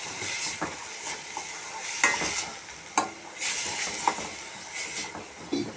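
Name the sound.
coconut, coriander, ginger and garlic paste sautéing in pan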